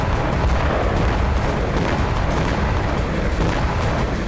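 Dense war-zone barrage of explosions and rocket fire, a continuous rumbling roar of booms and blasts with no clear gaps, fairly loud throughout.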